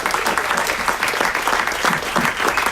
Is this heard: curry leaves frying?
no